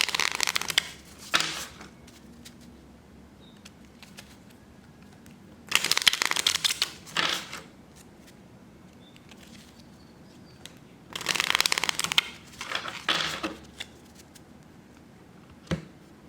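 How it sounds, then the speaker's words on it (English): Four king playing cards being shuffled by hand for a reading, in three clear riffling bursts separated by quiet stretches, close and fairly loud, with no voices. "we are going to shuffle our kings off camera"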